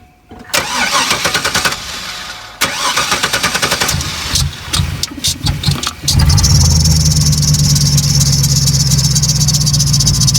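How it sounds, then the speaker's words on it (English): A 1987 Chevrolet S10 pickup's engine cranks with a whirring starter and a few sputters, then catches and settles into a loud, rumbling idle. "Leonard, fire the truck up, please."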